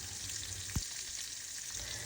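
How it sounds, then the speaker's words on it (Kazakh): Meat and kidney for Kazakh kuyrdak fry in hot oil over low heat, a steady close crackling sizzle throughout with one faint utensil knock partway through. "Сол қызып тұрған майға ет пен бүйректі салып, жарты сағаттай баяу отта қуырып алдым."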